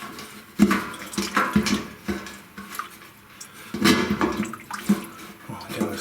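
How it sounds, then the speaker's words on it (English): Fuel splashing inside a Holley Terminator EFI setup on a 1957 Chevy, heard as repeated irregular sloshing and watery splashes, close and fairly loud, in bursts with brief pauses, with no talking. "At least we know we're hitting the fuel. It keeps making splashy sounds."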